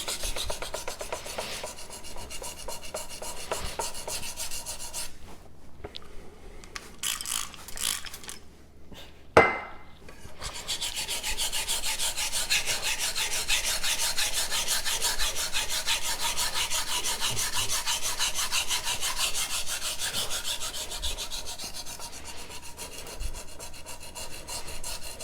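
A MagnaCut steel knife blade is drawn across a sharpening stone in long, steady rasping strokes, close and continuous, broken midway by a short pause with a sharp knock before the strokes resume.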